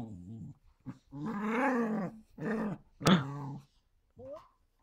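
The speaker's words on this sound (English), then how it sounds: "The dog is mad because I'm about to fall asleep" A corgi growls in several short, low rumbling bursts separated by brief pauses, close and fairly quiet, ending with a small whimper.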